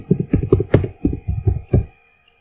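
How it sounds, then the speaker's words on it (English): Fast typing on a computer keyboard into a browser search bar, a quick run of about a dozen close, clattering key presses in uneven rhythm that stops abruptly. "open browser, then type in Media Creation Tool."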